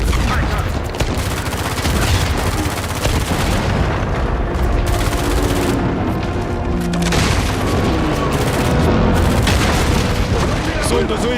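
Heavy gunfire and booming blasts from an Uncharted 4 firefight rattle continuously for the whole stretch, loud and dense bursts with explosions mixed in.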